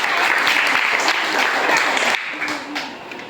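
A room of schoolchildren and adults at a village school quiz show claps loudly and steadily for a correct answer, then the applause thins and fades near the end.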